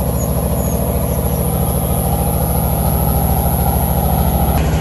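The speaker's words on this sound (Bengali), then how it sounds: "এই যে ট্রলার আইতেছে" A trawler boat engine runs on a river in the morning, a loud steady low chugging drone with even pulsing throughout, close and unbroken, no voices.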